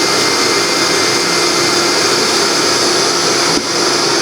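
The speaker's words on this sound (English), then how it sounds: "And now I have the 600 grit. I maybe just do a quick bit here and just a quick bit on that edge just to get rid of those burrs." A wooden bowl spins on a lathe while 600 grit sandpaper is pressed to it, a loud continuous whirring hiss with a steady motor hum that runs unbroken and close throughout.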